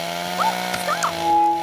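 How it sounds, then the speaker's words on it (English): A chainsaw buzzes and revs in the Mr. Bean cartoon, a short, loud mechanical drone with rising and falling pitch sweeps and a constant hum beneath. "Put down your chainsaw."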